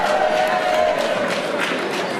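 Audience applause in a hall after a motivational talk, a dense steady wash of clapping from many hands, with a brief voice rising near the start.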